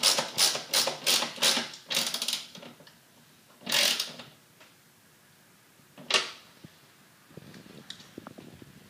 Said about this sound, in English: So we'll get it started by hand and then replace with our 13mm socket. Tighten this down.